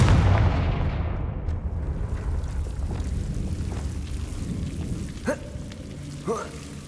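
Confringo fire-blast spells explode in the Hogwarts Legacy video game, a heavy booming blast that fades into a rumbling, rain-like crackle, followed by two short whooshing spell bursts.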